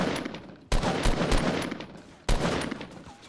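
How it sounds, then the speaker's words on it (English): Gunfire in a Fortnite Battle Royale match: two sharp onsets of rapid automatic shooting, each a dense rattling burst that decays, loud and near, with occasional player chatter in the background. "he's shooting from the right"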